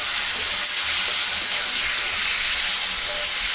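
A paste of ground cumin, ground coriander and ginger sizzles loudly as it goes into a pan with pre-fried winter vegetables (potato, eggplant, beans, radish) for a bori curry, giving a dense, steady hiss from start to end with no talking.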